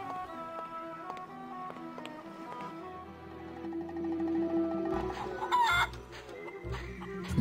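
Chickens clucking and a rooster crowing in the video game The Curse of Monkey Island, with repeated clucks over an ambient musical backdrop and a louder squawk near the end.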